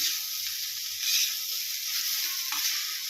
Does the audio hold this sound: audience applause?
no